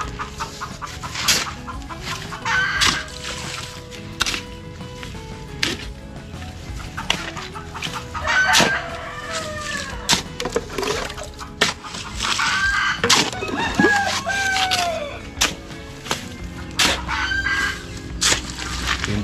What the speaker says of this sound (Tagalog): Ingay ni labuyo.